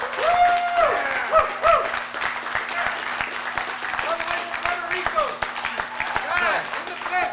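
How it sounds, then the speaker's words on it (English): An audience at a mastermind seminar claps steadily, with sharp individual claps over a sustained crowd patter, while a voice talks and whoops through it. "I didn't ask for the applause, did I?"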